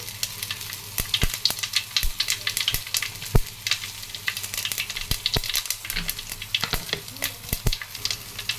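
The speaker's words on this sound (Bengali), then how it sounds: "জিরাটা ভাজা হয়ে গেছে" White cumin seeds fry in hot oil in a pan for a fish curry, giving a steady crackling sizzle broken by sharp, irregular pops and stirring clicks, close and alone.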